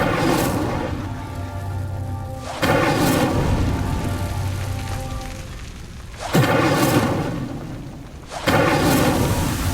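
Incendio fire spell lighting pyres in Hogwarts Legacy, heard as loud whooshing bursts of flame that swell and roar several times in a row, each burst dying down into a rumbling crackle before the next ignites.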